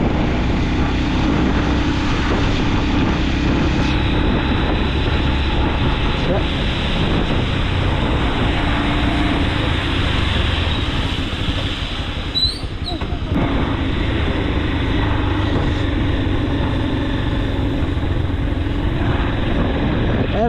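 Steady loud roar of aircraft engines at an airport, continuous and broadband throughout, with wind buffeting the microphone.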